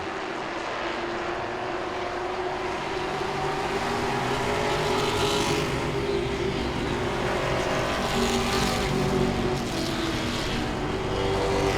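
Grand stock race cars battle in a pack at Langley Speedway, their engines roaring loudly and steadily for the whole stretch, with the pitch swelling and fading slightly as cars pass.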